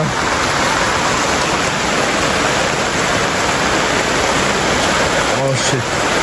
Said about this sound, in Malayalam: എന്തൊരു മഴയാ.